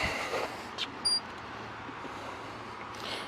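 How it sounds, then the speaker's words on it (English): The door of a 1936 Ford Slant Back resto-mod gives a couple of brief, close mechanical clicks as it opens, alone against a quiet background. "Open the door here, you can hear the click."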